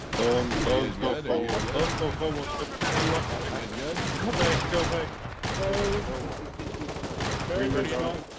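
Rapid gunfire from enemy garrison AI defences in the war game Foxhole, sustained bursts of shots and automatic fire lasting throughout, mixed with someone talking over the battle noise.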